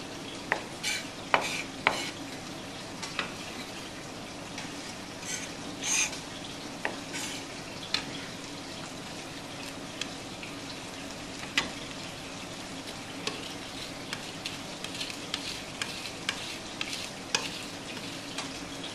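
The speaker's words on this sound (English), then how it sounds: "my chicken's sizzling away" Chicken sizzles steadily in a hot frying pan, with a constant crackling hiss and scattered sharp pops and clinks throughout.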